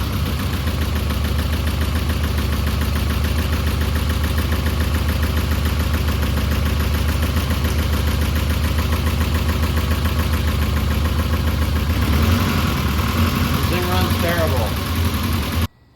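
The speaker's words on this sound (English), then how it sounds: "it just still makes a lot of noise. I know single cam KAs are noisy" A Nissan 240SX single-cam KA engine, started after sitting for 20 years, idles loud and noisy with a rough, clattering steady run, close up and continuous throughout, with a brief voice-like sound near the end.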